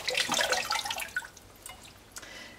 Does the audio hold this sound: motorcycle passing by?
no